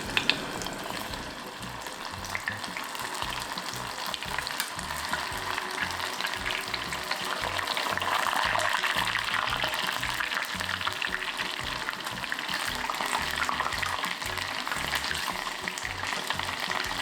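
Shiitake mushrooms crackle and sizzle steadily as they deep-fry in hot oil during a second fry, a dense, continuous bubbling hiss close by with no voices.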